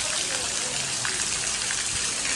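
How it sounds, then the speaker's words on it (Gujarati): Heavy rain pouring down, a loud, dense and continuous hiss and patter close by with no break across the short stretch. "બહુ જ જોરથી વરસાદ ચાલુ છે."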